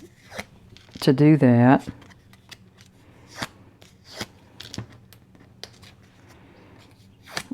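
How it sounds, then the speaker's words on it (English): A bone folder curves cut paper flower petals made with a balloon punch, giving soft, close scraping and rustling paper sounds in a quiet crafting setting, with someone talking over part of it. "the gray for the bottom petals, and I'm going to curve them down. And I'm just using my little bone folder"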